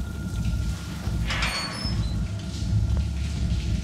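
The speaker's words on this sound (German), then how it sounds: "Blut, das aus einer Dusche regnet." Blood rains from a shower in the horror game Outlast 2, a steady hissing downpour like heavy rain with faint clinks and a low rumble underneath.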